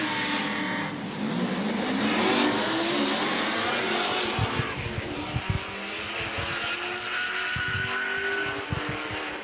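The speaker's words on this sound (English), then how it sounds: "It's a supercharger, so it makes all the right noises." A supercharged LSA-engined street drag car roars down the strip, a loud engine note with tire squeal and rising revs, then sharp popping bursts as it pulls away.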